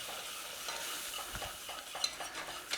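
A spoon scrapes and stirs flour in a pan for a moussaka roux, a soft continuous sizzle underneath the steady stirring strokes, with a couple of light metallic taps near the end.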